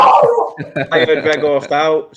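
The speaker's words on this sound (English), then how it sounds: "that's my dog. Sorry." A dog barks and yips in a series of short, loud, close barks, overlapped by someone talking.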